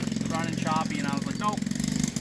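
A Yamaha Banshee quad engine runs rough and choppy, a loud continuous close drone with a steady pulsing rhythm throughout, while a voice speaks over it.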